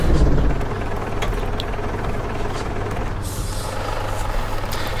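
A modded heavy truck in a driving game releases its parking air brake and pulls away, a loud hiss at the start giving way to a steady, close diesel engine drone with faint higher mechanical whines.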